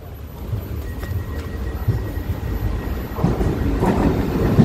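A train rolls past on a Taiwan railway line, a steady rumble with clattering wheels growing louder toward the end, heard alone without talk.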